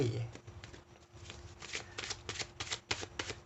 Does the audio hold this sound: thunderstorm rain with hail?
no